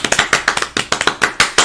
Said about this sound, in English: round of applause for our contributors that just went.